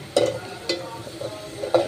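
Onions frying in a pan give a faint, steady sizzle, broken by three sharp clinks of stirring at irregular intervals.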